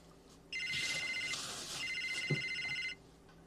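Incoming call on a phone: a steady electronic ring tone sounds close for about two and a half seconds, then stops abruptly, with a faint voice-like murmur underneath.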